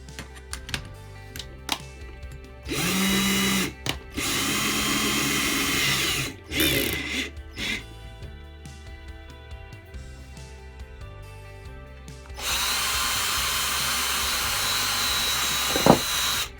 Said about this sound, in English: So you drill the hole with the 20mm hole saw.